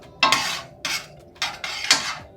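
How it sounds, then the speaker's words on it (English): A utensil stirring vegetables in a pan, four distinct scraping strokes in a steady rhythm, close and clear with no voices. "So I just kind of want to mix that in"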